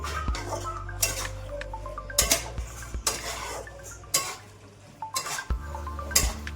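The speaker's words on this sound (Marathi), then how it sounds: "असं व्यवस्थितपणे हळूहळू मिक्स करायचं" Pasta is stirred and mixed in a pan with a utensil, giving repeated scraping clanks and knocks against the metal in an uneven rhythm, close and moderately loud, with no talking.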